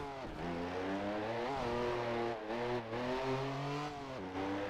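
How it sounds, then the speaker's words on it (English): A modded BMW M4 with an Akrapovic exhaust in the racing game Test Drive Unlimited 2 revs up through rising engine tones, with gear changes and repeated climbs in pitch, loud and close with no talk. "The engine sound you're hearing is actually not available in AutoPack."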